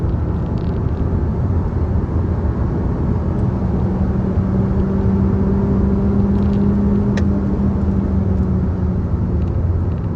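Cupra Formentor accelerating in sport mode, its engine a steady loud rumble heard from inside the car, with a low drone rising slightly partway through.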